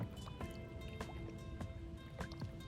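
Outdoor body of water flowing steadily, a soft continuous wash with scattered drips and light splashes close by, alone without talking.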